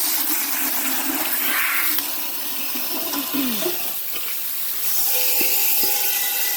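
Running water rinses something during household cleaning chores, a steady close wash of splashing with some clunks and scraping as items are moved under the flow.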